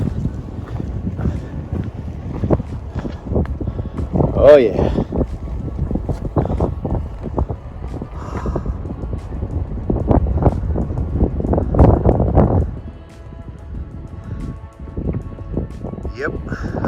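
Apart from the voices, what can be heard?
wind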